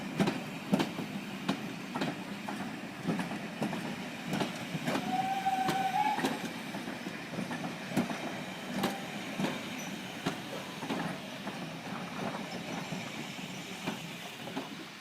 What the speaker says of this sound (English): a demonstration goods train heading for Alton